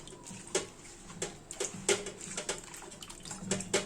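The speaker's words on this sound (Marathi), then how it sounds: "पालक भाजी मिठाच्या पाण्याने स्वच्छ धुवून थोडंसं गरम पाण्यात वाफवून घेते 2 मिनिट." Spinach leaves are washed in salted water in a home kitchen, soft splashes and sloshing swirls in an uneven rhythm, faint and close, with no talking.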